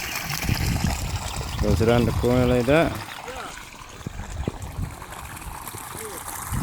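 River water runs through an irrigation channel on a plantation farm in Somaliland, a continuous close trickle and gush heard under a man's speech.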